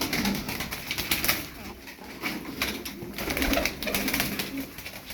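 Çapar tumbler pigeons coo softly in a loft, low throaty rolling calls repeating among faint rustles and occasional wing movements, fairly quiet and somewhat distant.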